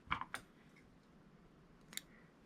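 Scissors snip fishing jig thread while tying a crappie jig, two quick close clicks followed by a single faint snip after a quiet pause.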